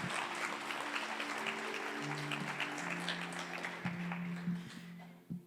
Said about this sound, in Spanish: Vamos, dale un aplauso.